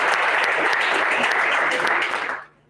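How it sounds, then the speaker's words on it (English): An audience at a provincial fire awareness day event gives a round of applause, a dense steady clapping from a crowd that fades out abruptly at the end. "Can we give him a round of applause?"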